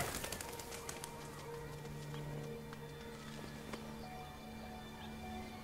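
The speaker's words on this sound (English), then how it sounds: "Oh, pigeons." Pigeons cooing in the video game Detroit: Become Human, soft repeated coos and faint flapping over a busy city street ambience, some clacking sounds, no speech.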